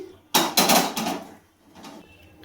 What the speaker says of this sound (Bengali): কড়াইটা আমি বসিয়ে দিচ্ছি।